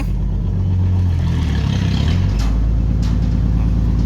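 A car engine hums low and steady nearby, then rises a little in a brief rev while the car edges into a narrow entrance under a low roof. A few faint clatters sit over the loud, constant rumble.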